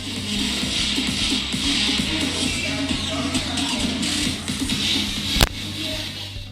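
Mecool KP2 projector's built-in speakers playing at half volume, a steady stream of music with a continuous rhythmic low pulse and busy midrange, moderately loud with one sharp click near the end.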